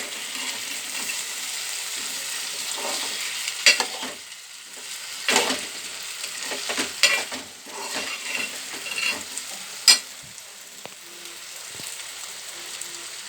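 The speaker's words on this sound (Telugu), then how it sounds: "టమాటా వేసి కలపాలి." Potato and tomato curry for bangaladumpa pulusu being stirred in a pan, a steady low sizzle with intermittent scrapes and clinks of the spoon against the pan, close and fairly clear, no voices.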